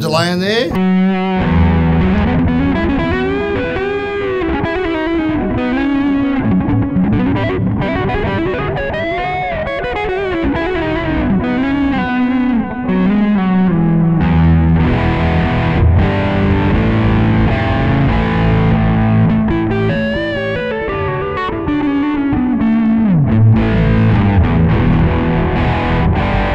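Electric guitar played through a Sonicake amp with delay added, a heavily gained, distorted tone whose repeating echoes trail behind each phrase in a continuous, loud solo-style passage.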